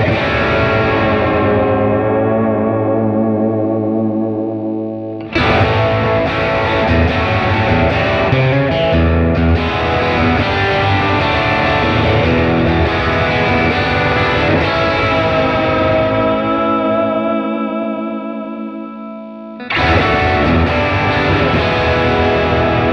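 A Gretsch electric guitar played through heavy saturation, its chords and notes ringing loud and sustained in long phrases, with a short break near the middle before the playing resumes.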